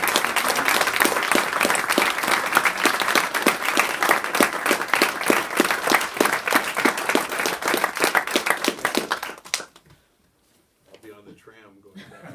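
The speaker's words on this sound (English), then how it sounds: "another round of applause for Bob for all the work he does with me." Audience applause at a school event fills about nine and a half seconds with dense, steady clapping, then cuts off abruptly, leaving near silence with faint room sound.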